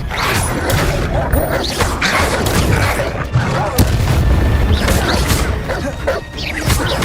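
Confringo fire spell explosions in Hogwarts Legacy come as a loud, dense barrage of blasts, crashes and impacts in continuous combat, with shouted spell names mixed in.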